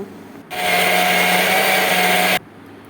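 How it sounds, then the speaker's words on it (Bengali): A kitchen mixer grinder blends cooked, spiced masala paste for butter chicken, starting abruptly into a loud, steady high whir that holds for about two seconds, then cuts off sharply. "কিছুক্ষণ ঠান্ডা করে আমি একটা মিক্সিতে পেস্ট করে নেব"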